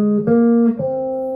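Guitar notes begin a Phrygian scale starting on C: three ringing, sustained tones step up one after another, close and clear with no talking.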